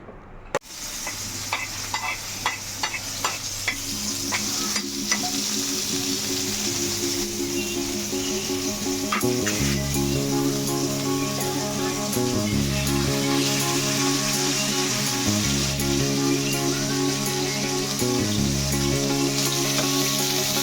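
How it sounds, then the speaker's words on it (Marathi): Prawns frying in a pan, a continuous loud sizzle with occasional stirring scrapes, close by, while a musical tune plays steadily in the background. "ती कोळबी थोडीशी फ्राय करणार आहे"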